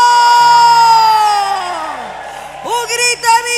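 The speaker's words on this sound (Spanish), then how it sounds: "Vamos a dar un grito de júbilo." A crowd of women at a church convocation lets out a joyful shout, opening with a long sustained high cry that swells and fades, then breaks into several overlapping whoops and calls near the end.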